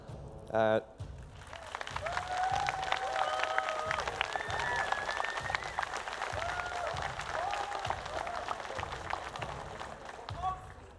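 A live esports crowd at a League of Legends final match in Warsaw, Poland applauds and cheers in a sustained, dense wash of clapping and voices that fills the whole stretch after a brief opening sound.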